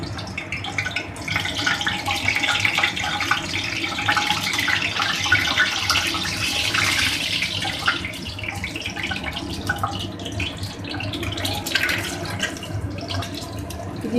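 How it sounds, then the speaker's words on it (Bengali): An egg frying in hot oil in a pan while cooking chicken biryani, giving a steady, fairly loud crackling sizzle that runs unbroken throughout. "প্রথমে আমি ডিমটা ভেজে নিচ্ছি।"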